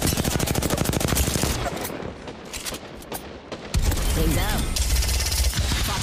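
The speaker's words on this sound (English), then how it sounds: "Firing missiles." Missiles firing in an online shooter video game, a dense rapid volley of sharp blasts that eases off mid-clip and then resumes at full loudness, with a player's voice partly mixed in.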